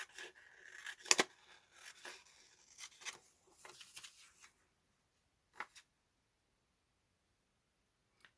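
Scissors snip paper while a grey paper owl is cut out, a quick run of crisp close cuts and rustles, then a few isolated snips after a pause, all faint and without talk.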